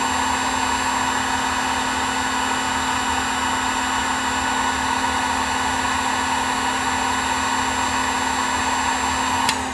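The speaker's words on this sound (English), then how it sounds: "let's again blow a little bit of warm air on it" Hot air tool blows steadily on a circuit board during a 1x4 Xforce blue label amplifier rebuild, a constant whooshing hiss with an even motor whine, close and unchanging throughout.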